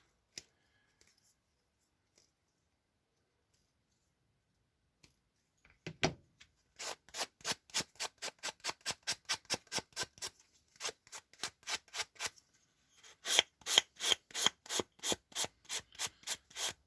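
Plastic parts of a Dr. Octopus miniature from a Marvel Crisis Protocol starter box being snipped and filed clean, first a few sparse clicks, then long runs of quick, steady scraping strokes, close and distinct, with no talk.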